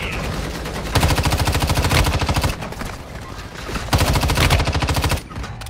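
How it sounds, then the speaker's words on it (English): Automatic gunfire in Warzone on Rebirth Island, two long rapid bursts of close, loud shots separated by a short pause, with a quieter stretch of ambient game noise between them. "They're shooting us."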